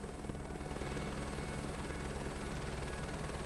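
Helicopter in Microsoft Flight Simulator 2024 taxiing to general aviation parking, with a steady, dense rotor and engine roar that stays constant throughout, no voices over it.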